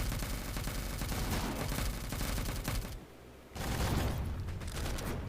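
Mech weapons firing in the video game M.A.V., a dense, continuous barrage of rapid shots that drops briefly, then resumes just as heavily.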